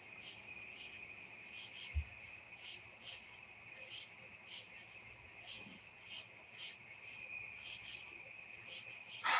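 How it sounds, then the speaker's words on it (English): Crickets chirp steadily at night in the woods, a dense continuous high trill with regular pulsing, moderately near, with a couple of faint thumps underneath and no voices. "It's only a problem if the crickets and toads go quiet."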